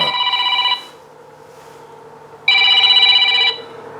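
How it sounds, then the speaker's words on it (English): A telephone rings in two electronic bursts separated by a short pause, loud and close, with no voices over it. "phone's ringing"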